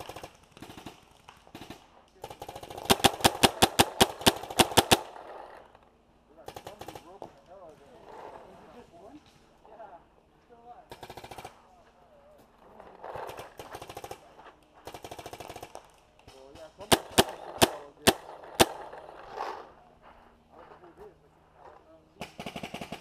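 Paintball guns fire in an outdoor paintball jungle field, with rapid bursts of sharp pops early and again near the end, scattered single shots between, and players shouting throughout.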